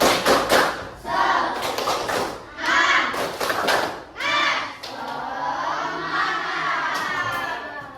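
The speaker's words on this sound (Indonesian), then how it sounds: "kita beri tepuk semangat" A school class in a science lesson does a rhythmic spirit clap, bursts of loud, close group clapping in patterned beats mixed with children's shouted chant, followed by a sustained crowd of voices.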